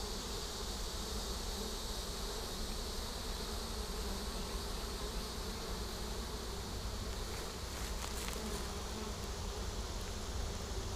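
A swarm of honeybees in a swarm box, a dense continuous buzzing drone that stays steady and close throughout, with no voices.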